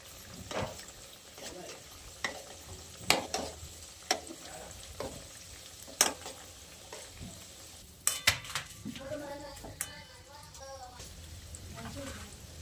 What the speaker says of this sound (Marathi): हे आपण मीडियम फ्लेमवर आपण तळून घेऊयात.